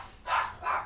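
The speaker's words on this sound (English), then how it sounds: "You can hear my dog barking in the background." Dog barking in a basement, two muffled barks a short gap apart, heard from another room at moderate distance.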